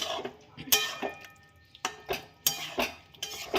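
Metal clinks and knocks of a lid placed on a cooking pot in a home kitchen, a series of short sharp clatters with quiet gaps, fairly soft and close.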